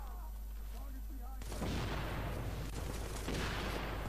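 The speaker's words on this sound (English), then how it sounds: "I'm gonna lob another grenade up." A grenade explodes in The Division video game: a sudden heavy blast bursts in after a quieter stretch and rolls on as a loud, rumbling roar to the end.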